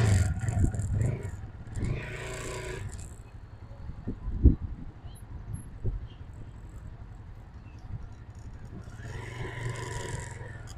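A motorcycle engine runs as a learner rider eases in the clutch and applies throttle. It holds a steady low rumble with slight swells, and someone talks over it at the start and again near the end.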